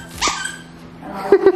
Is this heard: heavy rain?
no